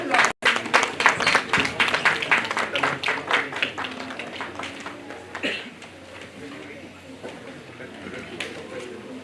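Applause greets a speaker walking onstage at a national conference session, a loud burst of many hands clapping that gradually thins and fades, with a voice talking over the end.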